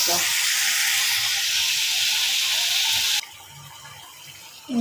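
Water pours into a cooking pan holding turmeric and chili, a loud continuous hiss that stops abruptly, leaving a quieter sizzle until a short burst at the end.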